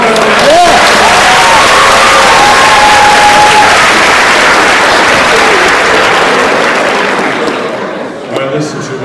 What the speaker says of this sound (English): let's give Winston a round of applause